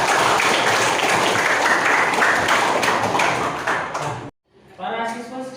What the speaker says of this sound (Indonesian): Tepuk tangan dulu biar menyemangati diri kita.